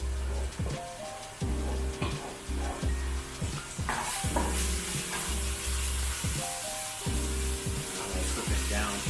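Chili garlic sauce sizzles and fries in a pan while being stirred during mapo tofu cooking, a close, steady hiss with intermittent scraping stir strokes.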